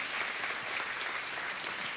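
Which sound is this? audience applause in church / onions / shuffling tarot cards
audience applause in church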